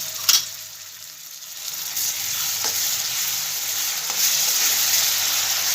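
Tomato-cashew gravy with Kashmiri chili frying in a pan for methi matar malai, a continuous loud sizzle with a few brief clicks of a spoon and no voices.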